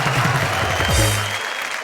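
An audience breaks into brisk, continuous clapping that fills the whole moment, with a few low, humming tones running underneath before they fade out toward the end.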